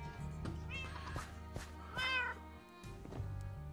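A cat in the video game Minecraft meows several times in short, distinct calls, close and clear over a steady low in-game hum.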